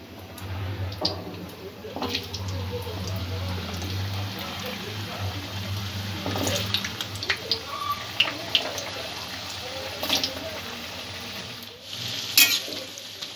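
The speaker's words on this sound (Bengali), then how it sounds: "এখানে আলু আর গাজরটাও আমি ভেজে নেব।" Potato and carrot pieces frying in a pan for a vegetable korma, a steady broadband sizzle running throughout with occasional stirring clicks and scrapes, fairly close, with a low hum underneath.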